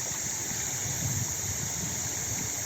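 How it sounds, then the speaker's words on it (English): Gently moving water runs somewhere in a park, a steady broadband rush like a small stream or fountain, close and continuous throughout with no voices. "Gently moving water."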